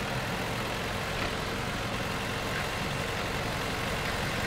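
In Farming Simulator 2015, an old Soviet tractor engine drones steadily with a rough low rumble and constant mid-range noise, unchanging throughout and with no voices.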